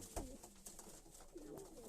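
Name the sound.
pigeon cooing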